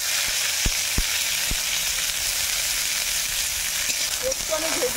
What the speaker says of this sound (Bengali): একটু আমি ভেজে নেব।